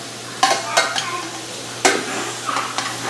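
Shrimp searing in a hot pan for zucchini pasta, a steady close sizzle broken by a few sharp scraping clicks as they are moved around, no voices.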